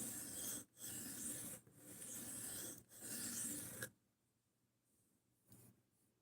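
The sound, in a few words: sharpening a large Gerber knife blade on a whetstone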